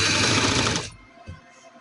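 A sewing machine stitches piping onto an open button shirt in a loud, rapid burst of mechanical clatter that lasts under a second and then cuts off into quiet.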